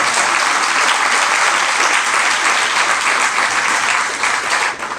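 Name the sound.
audience applauding and clapping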